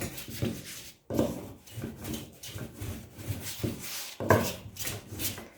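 Dough for Turkish su böreği is rolled thin by hand, giving soft, rhythmic rubbing and rolling strokes with light knocks against the board, close and fairly quiet with no voices.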